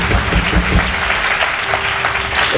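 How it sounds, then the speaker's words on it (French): A church congregation applauds loudly and steadily for a few seconds, a dense wash of clapping from many hands filling the room. "Donnons une grande acclamation au Seigneur."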